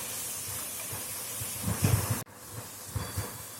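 Ginger garlic paste sautéing in a pan for South Indian chicken curry gives a steady close hiss and sizzle, with a few low bubbling pops, briefly cut off midway.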